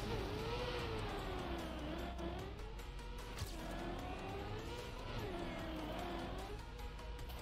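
A car drives in the OK-Bois Danger Zone video game, its engine holding a continuous moderate hum that rises and falls in pitch as it accelerates and eases off, steady throughout with no pauses.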